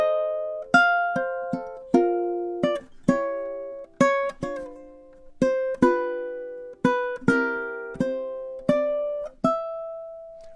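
Ukulele plays the slow intro phrase of a song, a series of plucked notes and chords that ring and decay one after another, close and alone.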